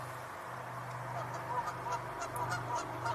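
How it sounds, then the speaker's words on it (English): Canada geese honk repeatedly in the distance, a scattered chorus of nasal calls over a low steady hum of outdoor background noise. "You can hear there's some Canada geese also there"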